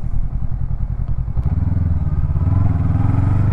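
A 2019 Honda CB500X parallel-twin motorcycle throbs close up while being ridden, its engine pulsing in a steady beat, dipping briefly at a gear change before pulling on with a deeper, stronger note.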